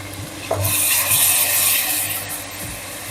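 Tomato and green chili paste being stirred into a hot pan for a green chana curry, a steady close scraping and rubbing with faint sizzle running throughout, no talk.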